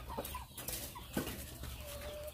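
Chickens crowd an automatic feeder as poultry feed is poured in, giving soft scattered clucks and a few wing flaps over a steady low farmyard hum, fairly close and fairly quiet, with no one speaking.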